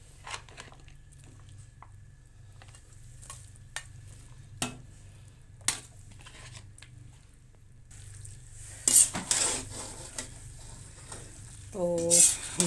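Carrot halwa frying in a pot after ghee goes in, a soft steady sizzle under scattered spoon taps that swells into louder stirring and scraping near the end, with no voices.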